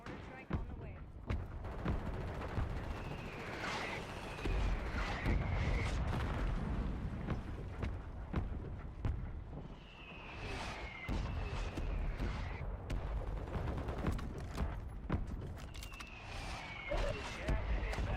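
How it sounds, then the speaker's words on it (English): Mortar strike explosions in Call of Duty Warzone arrive as a series of heavy, rumbling booms and thuds, with whistling incoming shells between blasts, under a constant low roar of gameplay audio. "Requesting fire mission. Target marked. Solid copy. Mortar strike on the way."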